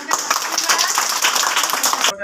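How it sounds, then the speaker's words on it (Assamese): An audience at an art competition prize distribution claps together, a close, loud burst of rapid overlapping hand claps lasting about two seconds, with voices mixed in, ending abruptly. "চবে তালি মাৰিবা দেই"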